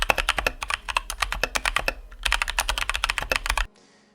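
Fast, crisp clicking from typing on a mechanical keyboard: dense, uneven bursts of keystrokes close up, with a brief pause midway before the typing stops abruptly.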